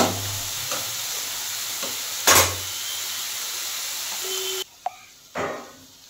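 Taro leaves with chickpeas and a hilsa fish head are stir-fried in a pan, a continuous sizzle with a few scraping stirs and clinks, the frying dropping away sharply near the end; nobody talks.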